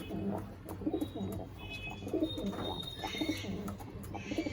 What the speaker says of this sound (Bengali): এগুলো পুরো প্রপার পায়রাটা